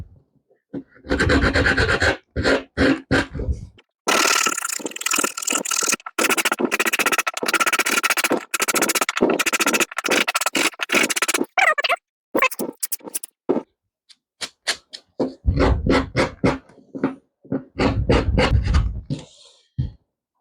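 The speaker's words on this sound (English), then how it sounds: "I'm going to take one of the legs and I'm going to carefully sand down one of the edges." Sandpaper rubs by hand along the edge of a wooden leg in close, loud rasping strokes, some long and some short and rhythmic, with a few pauses of silence between passes.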